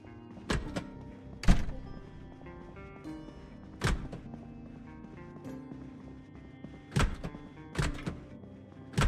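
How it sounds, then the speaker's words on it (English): Zombie thumping on the other side of a wall in the video game Project Zomboid, heavy irregular thuds spaced a second or two apart over a low, quiet ambient hum. "I can hear a zombie on the other side of the wall."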